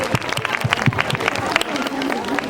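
An audience at a children's talent show applauding, with rapid, dense clapping close by and crowd murmur underneath, steady and loud throughout.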